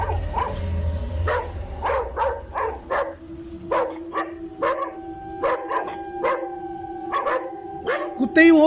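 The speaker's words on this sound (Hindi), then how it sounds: "कुत्ते ही भौंक रहे हैं।" Several dogs bark repeatedly at night on a road, sharp yelps and woofs spaced through the scene, fairly close and loud, with a steady tonal hum underneath and a louder bark burst at the end.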